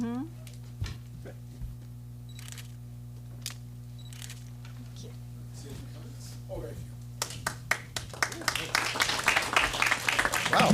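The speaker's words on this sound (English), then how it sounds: "Wow, applause and everything." A crowd at a city council meeting breaks into applause, a scattering of claps at first swelling into dense clapping toward the end, with some murmuring beneath.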